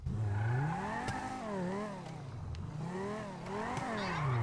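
A Banshee sports car in GTA Online revs repeatedly, its game engine note sweeping up and down in pitch over a steady idle, fairly quiet and alone.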